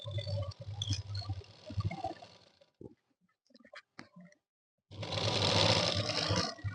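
A sewing machine stitches a zip onto a lined suit. Loud whirring runs come at the start and again at the end, with a quiet gap of small clicks and handling noises in between.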